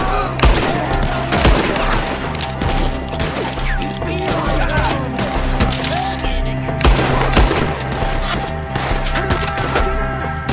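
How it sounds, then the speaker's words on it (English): Rapid gunfire fills a shootout in the video game Red Dead Redemption 2, with dense bursts of shots and sharp cracks layered over a steady backdrop of game sound throughout, loud and close. "Shoot the ones up there first!"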